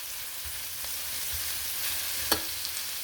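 Tomatoes frying in a pan for sinigang fried rice, a steady soft sizzle with an occasional light clink or stir, heard up close and without talk.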